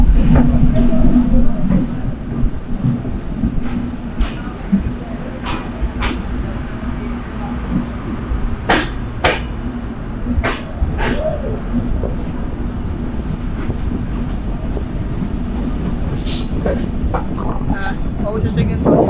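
The Sundarban Express passenger train runs on its route from Rajbari toward Khulna, heard from inside a crowded carriage as a loud continuous rumble with rhythmic wheel clacks and sharp metallic clicks, with voices murmuring underneath.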